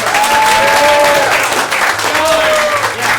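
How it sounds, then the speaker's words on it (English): A crowd applauds at a late-night improv comedy show, sustained loud clapping with cheering voices and whoops rising above it. "one more round of applause"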